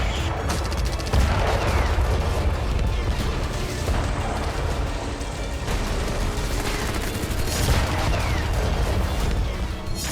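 Heavy gunfire and weapons fire during a Yemeni armed forces military exercise with tanks, a dense continuous barrage of shots and booms, loud and sustained, with repeated bursts throughout.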